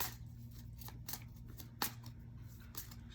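Tarot cards being shuffled by hand, a quiet, close riffling and flicking texture with several soft bursts over a few seconds, no talking.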